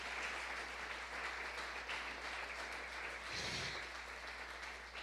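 A church congregation applauds during a Spanish-language sermon, steady sustained clapping heard at moderate distance throughout with a brief low thump partway through.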